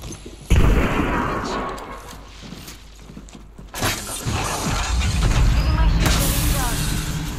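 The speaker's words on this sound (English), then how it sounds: "Grenade!" A loud sudden blast in a video game firefight, with a grenade going off among continuing gunshots; a second heavy burst follows, then ongoing shooting and battle noise while players talk.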